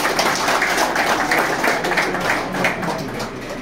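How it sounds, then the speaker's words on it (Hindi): Audience in a Baramulla office gathering claps to welcome a guest, a dense, sustained patter of many hands filling the room steadily for several seconds. "इनका वेलकम जोरदार तालियों से होना चाहिए"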